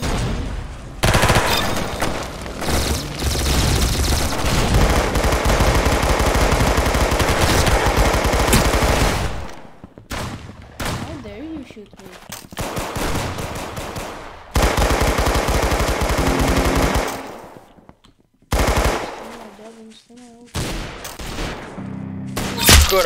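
Desert Eagle pistol fire in Roblox Arsenal, dense rapid gunshots in sustained loud bursts broken by short pauses, mixed with other in-game gunfire.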